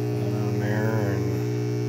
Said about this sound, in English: now you hear the harmonic coming in